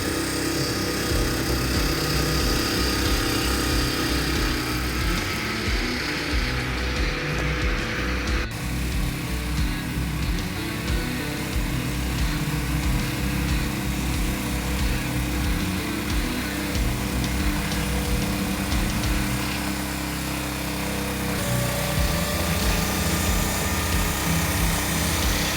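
A log-processing machine driven by a 30 horsepower petrol engine runs steadily and loudly, a dense continuous mechanical roar with shifting load throughout, no voices.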